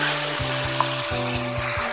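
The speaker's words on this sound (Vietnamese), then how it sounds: "bây giờ mình để vô một miếng dầu ăn. Rồi mình sẽ chiên thịt." Marinated pork frying in cooking oil in a pan for a Vietnamese broken-rice pork-skin dish gives a steady, loud, close crackling sizzle throughout, with a low electrical hum beneath and no one talking.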